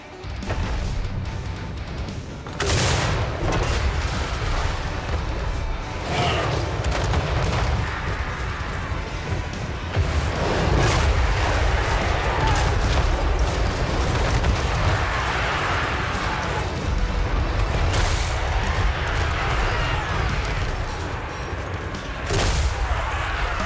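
Cannon artillery fire in Total War: Warhammer 3, Grand Cathay faction, booming in a dense, continuous barrage of heavy blasts and battle rumble with repeated sharp impacts throughout.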